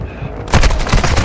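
A loud, rapid stream of gunfire in Call of Duty: Warzone 2.0 erupts after a quiet moment, with shots cracking in quick rhythmic succession.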